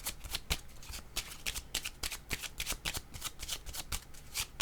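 Tarot-style cards are shuffled by hand for a card reading, a close, rapid run of crisp riffling flutters and soft slaps repeating throughout.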